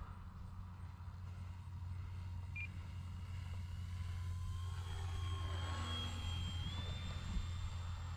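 An EC 1500 Twin radio-controlled model airplane flies with its landing flaps down, a steady distant engine drone with a whining tone that rises in pitch near the end.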